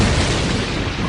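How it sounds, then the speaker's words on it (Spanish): A supernova explosion rendered as a dense, sustained roaring boom, loud and broadband, with rumbling low end and no pauses through its length. "Algunas estrellas al morir producen una explosión supernova."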